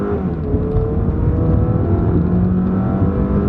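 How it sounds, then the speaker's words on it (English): A car with a 184 horsepower engine and high mileage accelerates hard, a loud, steady engine drone and rising whir heard close from inside the cabin with no break. "we'll see what kind of acceleration this 184 horsepower has"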